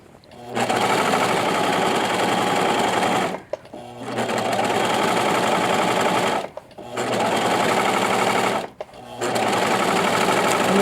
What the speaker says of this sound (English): And I just serge around.